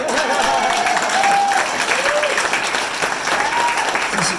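An audience claps at a hotel ribbon cutting, a short burst of steady, dense applause from a gathered crowd, with faint voices mixed in.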